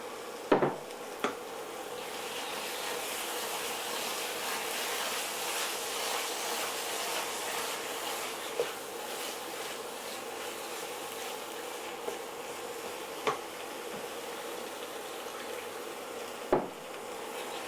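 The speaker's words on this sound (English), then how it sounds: "the key to a smooth sauce is keep stirring" A spoon stirs chicken stock into a sauce in a pan for turkey pie with leeks and bacon, a steady soft bubbling scrape with a few sharp taps of utensil against the pan at intervals.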